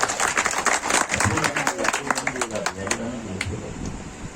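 Scattered applause at a Buddhist-style wedding ceremony in Bhagwanpur, a modest group clapping unevenly for a few seconds before thinning out, with voices murmuring underneath.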